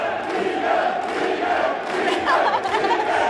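A darts final crowd roars and chants in steady waves, a dense wall of voices filling the whole hall with rhythmic repeated shouts of a player's name throughout.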